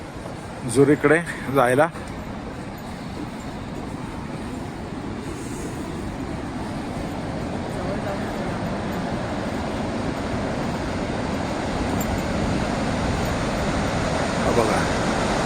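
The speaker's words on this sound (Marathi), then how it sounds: "हे बघा समोरून ट्रेन चालली आहे" A train passes in front near Rhine Falls, a broad rumble building gradually and holding steady after a short burst of speech at the start.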